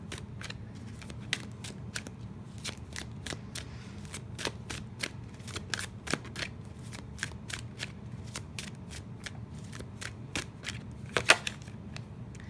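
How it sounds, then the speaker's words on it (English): A tarot deck is shuffled in a steady run of crisp, closely spaced card slaps and flicks lasting the whole stretch, close and fairly quiet, with no talking. "This deck is not shuffling for me."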